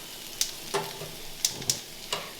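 Potatoes frying in a pan for cowboy potatoes with peppers and onions, soft sizzling under several sharp clicks and scrapes of stirring.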